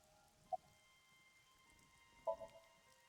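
Rain falls in the video game Ai: The Somnium Files as a faint, steady patter, broken by a few soft drip-like ticks.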